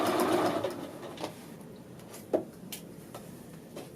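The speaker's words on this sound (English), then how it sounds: "I'm hoping I'm closing as I'm sewing the top edge of it here" A sewing machine stitches the top edge of a men's shirt collar band, a fast steady whirr at first that slows and trails off, followed by a few light clicks and a louder tap nearby.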